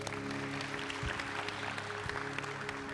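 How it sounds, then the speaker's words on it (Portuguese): A church youth-service audience claps in sustained, dense applause, steady and fairly distant, with a low hum running underneath. "Mais uma salva de palmas para esses homens."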